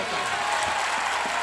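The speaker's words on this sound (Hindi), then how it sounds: "शैलेश जी को ताली बजा कर बताओ" An audience at a Hindi kavi sammelan poetry recital in Khurai claps together in steady, dense applause, heard from within the hall and sustained for the whole moment at a moderate level, with no voices over it.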